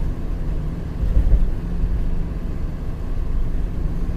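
A car crosses a bridge at the border into Canada, its engine and road noise a steady low rumble with wind buffeting the microphone, close and continuous, no talk.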